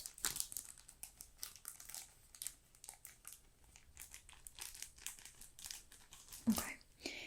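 Foil sheets used in hair colouring crinkle and rustle softly during a salon roleplay, with quiet, close, intermittent crackling and light crunching, and occasional faint speech.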